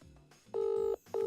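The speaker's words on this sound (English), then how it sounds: "It's ringing. I don't know if you can hear that, everybody. It's ringing." A phone call in progress, with two steady electronic ringback tones, the second cut off, following a brief softer tone, clear and close with no talking.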